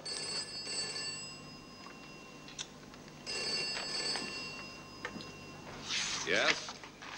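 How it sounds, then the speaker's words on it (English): A private telephone rings in a home, a faint repeating bell in short bursts under quiet room sound, with people talking briefly over it. "Well, that'll be my private phone."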